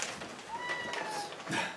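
A cat meows a couple of times, short close mewing calls over a noisy room background.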